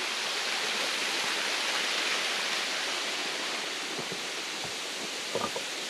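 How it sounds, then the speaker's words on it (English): The waterfall at Panther Creek Nature Preserve roars as a steady, broadband rush of falling water, constant and fairly close, with a few faint knocks near the end and no talk. "Look at the waterfall."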